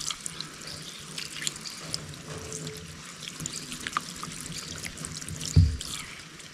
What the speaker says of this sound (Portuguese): Vindo água sem interrupção.